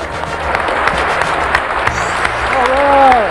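A crowd at an indoor model aircraft world championship applauds a winning flight, sustained clapping throughout with a rising whistle near the end.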